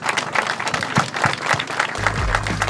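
Audience applause at a community event for the Amagerbanen railway line, steady clapping from a moderate crowd, a dense patter of hand claps at medium distance with a low rumble joining in near the end.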